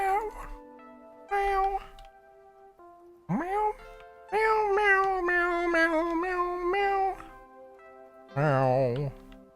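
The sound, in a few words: cat meowing in video game Minecraft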